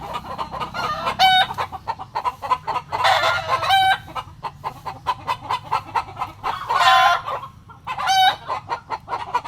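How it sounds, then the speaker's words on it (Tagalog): Native chickens and fighting cocks in a home yard cluck repeatedly and crow several times, close and loud, the calls overlapping in irregular bursts with no talk. "Native po yun na manok."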